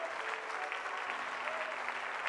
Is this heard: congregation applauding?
yes